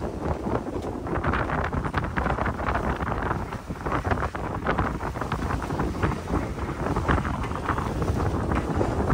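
A sailboat under way in a brisk afternoon breeze, with constant rushing wind buffeting the microphone over wash and creaking, loud and close, with no talk.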